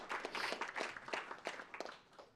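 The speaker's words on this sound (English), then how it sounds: "Don't often get applauded for that in Pennsylvania." An audience at a labor politics talk breaks into applause, a moderately loud, steady patter of many hands clapping that gradually thins and fades toward the end.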